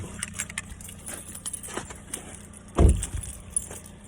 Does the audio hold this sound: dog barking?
no